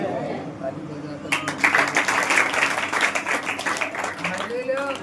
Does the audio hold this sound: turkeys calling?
no